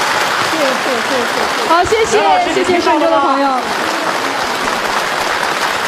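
An audience at a Yue opera centennial television gala applauds, a broad, steady wash of clapping running throughout while a host speaks over it.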